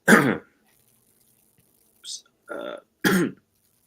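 A sharp cough, then after a pause a short burst of throat-clearing sounds and another cough, close by, with quiet gaps between.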